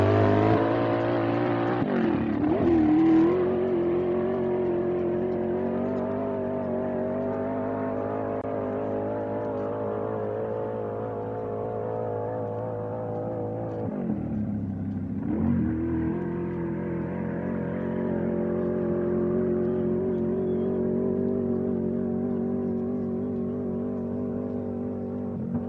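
A race car engine accelerating on the Speedweek course holds a loud, steady roar with rising harmonic pitch, briefly dipping and surging again twice as gears change, and no talk over it.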